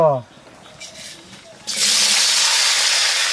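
Rohu fish pieces hitting hot oil with spices in an outdoor village kitchen, a loud steady sizzling hiss that bursts in partway through and continues without a break after a brief voice at the start.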